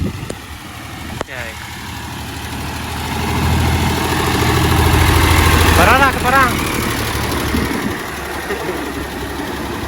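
A tractor engine runs steadily at a tubewell in the fields, a loud, close, low diesel rumble that swells in the middle, with someone briefly speaking over it.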